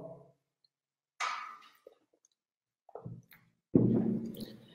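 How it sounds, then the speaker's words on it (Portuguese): A person takes a drink of water: quiet sips and wet clicks, then a short pause and a louder swallowing gulp, all close and alone with no talking. "deixa eu tomar uma água logo"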